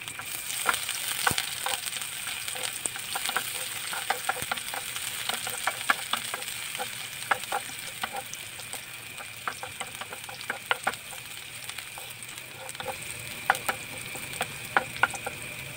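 Onions fry in a hot pan for fried rice with a steady sizzle. A utensil stirs them at irregular intervals, giving scattered clicks and scrapes throughout, and no one speaks.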